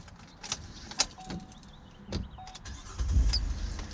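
A 2012 Chevy Impala police interceptor starts up after a few clicks and clunks of keys and switches, the engine catching with a low rumble in the final second.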